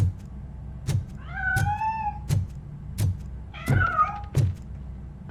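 A cat in RoboCop: Rogue City meows twice, a clear close wavering cry each time, set against a steady rhythm of heavy footsteps thudding about every half second.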